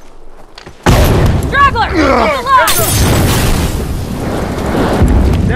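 A bomb goes off in an online Supply Raid match at a coal mine in The Last of Us Remastered, a sudden loud boom with a long rumbling tail, then a second blast, with shouted voices around it.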